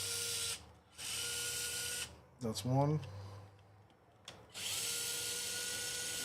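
A cordless drill spins out a bolt on a TRX4M RC truck in short bursts of whirring and a brief rising whine, with someone speaking briefly between the bursts.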